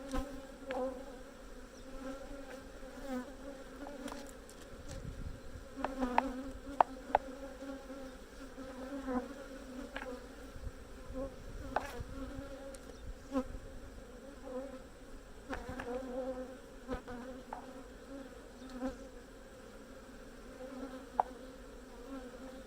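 Honey bees buzz steadily inside an opened hive, a close, continuous drone with occasional louder passes of individual bees near the frames.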